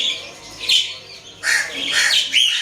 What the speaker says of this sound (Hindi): और वो कौवा देखें कि किधर आगे बैठा हुआ है।